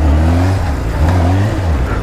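A heavy Honda Hornet motorcycle engine revs loud and close, its deep droning note rising and falling in two surges during a wheelie, with no talk over it.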